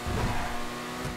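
Engine of a nearly three-million-dollar tuned supercar in a driving game, a brief loud rev that swells and then holds steady at a droning pitch.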